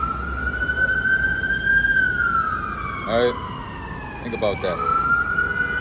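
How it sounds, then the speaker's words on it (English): An emergency vehicle siren wails steadily outside, rising and falling in pitch at moderate distance, while someone talks over it in short bursts. "I just needed that siren to go off so I could remember something"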